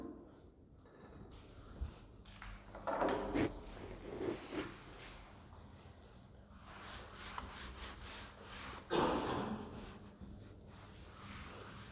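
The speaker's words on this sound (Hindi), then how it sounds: "मैं इसको रब कर रही हूँ अभी ये वाला पोर्शन ना।" Eraser rubbed across a board to clear a section of orbital-shape diagrams during a chemistry lesson, giving soft, uneven scrubbing strokes in bursts of friction that come and go over about twelve seconds.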